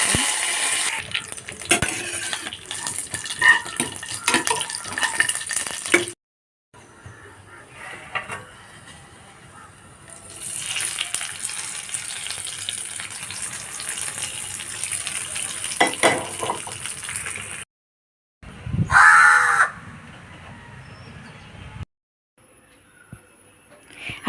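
Fenugreek, dried red chilies and curry leaves sizzling in hot oil in a pan for tempering, a crackling spatter that comes in bursts, pauses, then flares sharply again before fading.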